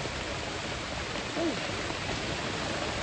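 Heavy rain pours down on a minivan while camping, in a dense, steady hiss that fills the whole clip, close and constant.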